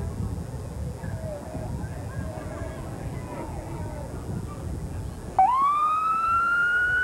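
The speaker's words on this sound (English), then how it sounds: "Oh, I think I hear another fire truck." Midway through a Santa Claus parade, a fire truck siren starts up and wails loudly over a murmur of crowd chatter.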